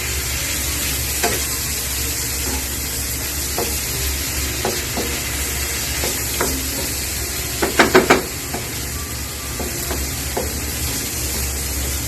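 Aloo baingan masala stirred in a pan, a continuous sizzling hiss with occasional spoon scrapes and a quick cluster of sharp clinks partway through.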